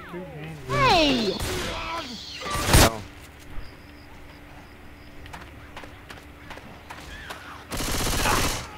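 Gunfire from the Left 4 Dead 2 video game crackles in quick bursts at the start and end, with scattered shots between, while players talk and shout over it.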